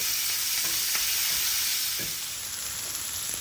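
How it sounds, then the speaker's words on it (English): Steady sizzling of onions frying in a pan for Hungarian chicken paprikash, a continuous crackling hiss with small pops, fairly close and alone without voices. "So while our onion is frying"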